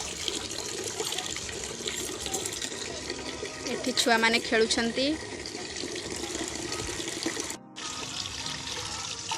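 Running water splashes steadily, like a tap pouring into a vessel, with voices talking over it and a brief pause near the end.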